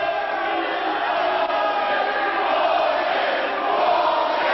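An unhappy crowd at a live professional wrestling match in an arena chants and roars in a dense, continuous wall of voices, loud and steady with no clear individual words.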